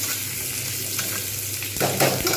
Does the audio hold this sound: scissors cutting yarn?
no